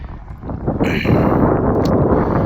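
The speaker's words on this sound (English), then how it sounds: "The wind's going pretty good." Wind gusting across an exposed fishing point on a lake shore, a steady low rumble of buffeting against the microphone that swells louder after the first second and stays strong throughout.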